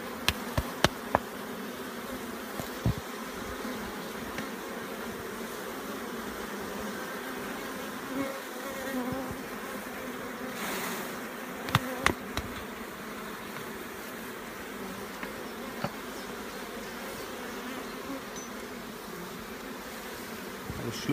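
Young honeybees buzz steadily over brood comb where new bees are hatching, a continuous close hum with a few brief louder swells and no voices.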